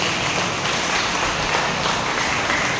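A church congregation claps together in a sustained, even round of applause that fills the room for the whole stretch, with no voices standing out.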